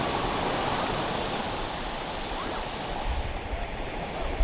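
Waves washing onto a Lake Huron beach make a constant close hiss of surf with a low rumbling undertone and a slight surge near the end. No one speaks.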